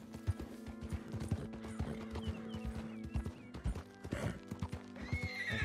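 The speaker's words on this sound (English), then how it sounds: "Calma aí, cavalo, não joga no chão não." Horse hooves clip-clopping in steady rhythm with whinnies in Red Dead Redemption 2, close and clear, the neighing rising near the end over a background game score, with no talking.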